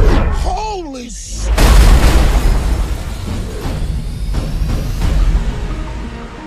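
Bomb blasts from the Fast & Furious 8 trailer, a deep booming explosion erupting after a short whistling descent and rumbling on under a dense cinematic soundtrack.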